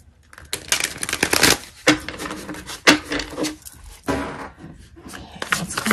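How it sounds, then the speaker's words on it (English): Tarot cards shuffled by hand give a run of brisk riffling and slapping bursts, close and fairly loud, with short pauses between shuffles. "Just gonna shuffle one more time."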